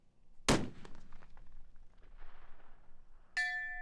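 A single sharp long-range rifle shot cracks out loud and close, followed by a rolling, decaying echo down the range; near the end a clear ringing ding sounds, like a bullet striking a steel target.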